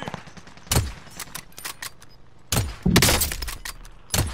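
Sharp gunshots crack on Rebirth Island in Call of Duty, a few separate loud reports and short bursts spaced by quieter gaps.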